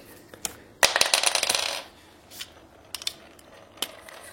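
Four lipstick tubes (Dash of Pink, Berry Sorbet, Rich Red, Cranberry) being opened, giving quiet close plastic clicks and taps with a short scraping rattle in the middle, no talking.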